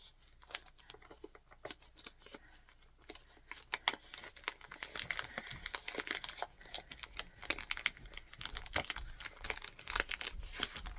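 Quilt pattern paper crinkling and rustling as it is pulled out of a package of Red Barn Christmas fabric bars, close and continuous, with crisp bursts that grow busier and louder toward the end.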